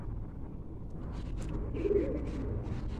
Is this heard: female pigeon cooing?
yes